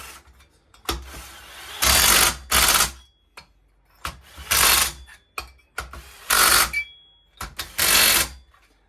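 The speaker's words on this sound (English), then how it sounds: "this little Makita doesn't have a ton of torque, I will go back and hand torque those bolts" Bursts of a small Makita power driver run bolts into the top end of a Husqvarna 394 XP chainsaw, about five whirring, ratcheting pulses with quiet gaps between, close up.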